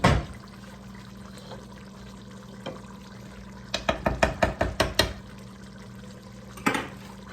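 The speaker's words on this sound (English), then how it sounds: "And to this now, I'm going to add our cheese mixture." Cheese mixture poured into a pot of potato sausage soup, a quiet steady background broken by a rapid run of wet plopping and splashing bursts, then one more splash near the end.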